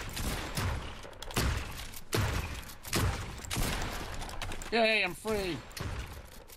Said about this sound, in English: It's like dueling shotguns.